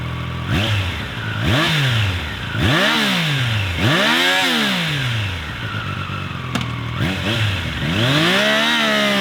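A Triumph Daytona 660 motorcycle engine revs repeatedly in rising and falling sweeps, about six loud, close throttle blips in a row with brief dips between them, with no talking.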